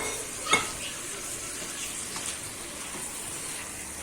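Marinated mutton frying and being stirred in an oiled pan, a steady low sizzle with a brief louder spatter near the start and faint stirring scrapes.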